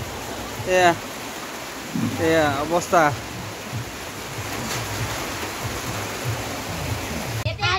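Steady rain pours down outdoors in a village during Magh Bihu Uruka cooking of meat in bamboo tubes and chicken, a constant close wash of noise with a person talking briefly over it.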